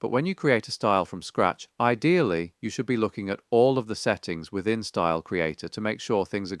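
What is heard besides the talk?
No everyday noise stands out behind the speech.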